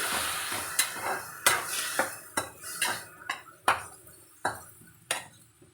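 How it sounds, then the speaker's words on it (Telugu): Gongura leaves and tomato pieces cooking in a pan for a chilli chutney, stirred with a utensil that scrapes and clinks against the metal in a steady series of sharp knocks over a soft sizzle; no voices. "ఈ విధంగా కలుపుకుంటూ ఉండాలి గోంగూర టమాటా ముక్కలు మగ్గేంత వరకు కలుపుకోవాలి"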